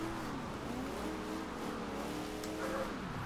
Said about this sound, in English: this car sounds absolutely meaty.